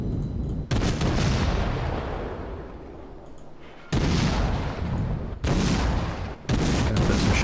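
Warship guns in the World of Warships naval video game, fired from a Sims tier VII destroyer: loud booming salvos come at uneven intervals, each followed by a long rumbling decay, with no voices.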